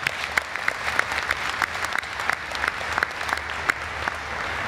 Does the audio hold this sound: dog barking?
no